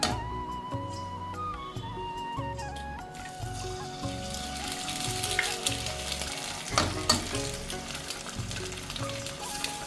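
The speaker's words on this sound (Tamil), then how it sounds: "எடுத்த பிறகு அதே தவால நம்ம 2 எக்கு உடச்சி ஊற்றிக்கலாம்." Two eggs crack onto a hot tawa griddle and sizzle loudly and steadily, with bubbling spatter and a few scraping, stirring sounds in a home kitchen.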